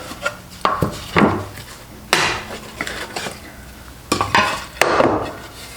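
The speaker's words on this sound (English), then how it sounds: "you can see it's cutting very nicely, good shavings" A Stanley plow plane cuts a dado in wood, producing several distinct close swishing strokes as shavings peel off, each pass starting with a sharp scrape and trailing away.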